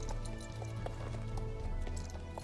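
An Icelandic horse walking in Star Stable Online, its hooves making a soft, even clip-clop under a steady background, with no voices.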